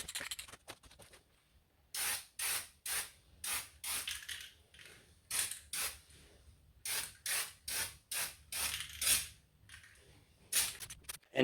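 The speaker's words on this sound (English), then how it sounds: "And then hit them with some black. These Rust-Oleum turbo cans are the way to go" A Rust-Oleum Turbo spray can paints parts black in a long series of short, sharp hissing bursts, each about half a second, fired in quick rhythmic runs with brief pauses between them, close and fairly quiet.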